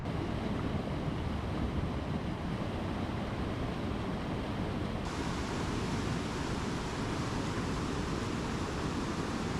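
The Narmada river current surges through the Sahastradhara falls at Maheswar as a steady, loud, broadband rush of water that never lets up, with wind mixed in.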